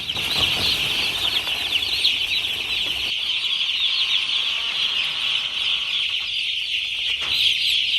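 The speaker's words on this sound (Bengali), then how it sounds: "আজকে আমাদের মুরগির বয়স একদিন" Crowds of day-old chicks in a large poultry farm shed cheep continuously in a dense, shrill chorus that stays loud and unbroken throughout, with no talking.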